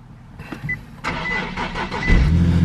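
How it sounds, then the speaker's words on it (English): A Nissan 370Z Nismo with a new exhaust and a limp mode fault starts up: a starter crank and click, then the engine catches with a deep rumble that settles into a firm idle, recorded close. "we're gonna get inside the Nismo, we're gonna start it"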